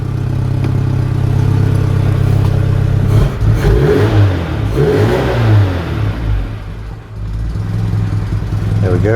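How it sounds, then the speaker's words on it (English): A Citroën 2CV engine runs steadily nearby with a rough, breathy exhaust note from a leak at the middle exhaust clamp, revving briefly midway; a voice speaks once. "Exhaust is sounding a bit blowy on this middle clamp again."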